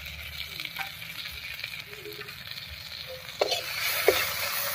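Ginger-garlic paste with cumin and chili powder sizzles in a hot pan while being stirred for a taro dish, a steady close frying hiss with occasional scraping strokes that grow louder near the end.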